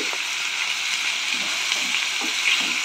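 Curry leaves and turmeric frying with onions in a pan, a loud, even sizzle broken by a few stirring scrapes, close up and with no talking.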